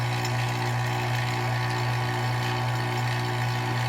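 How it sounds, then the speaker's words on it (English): A vacuum pump runs continuously on a Toyota MR2 AW11 air-conditioning system during an R12 to R134A conversion, with a steady low mechanical hum and droning motor noise, close and unchanging throughout. "turn off the vacuum pump"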